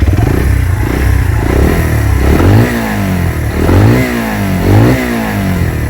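A Honda Varadero 125 motorcycle engine revs repeatedly, rising and falling in pitch in several pulls over a steady idle, loud and close, with faint clatter in the background.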